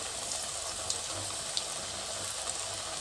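Onion pakoda batter dropped into hot oil, giving a steady, even sizzle and hiss throughout with a few faint crackles and pops, fairly close and continuous with no talking.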